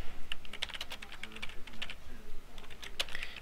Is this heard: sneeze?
no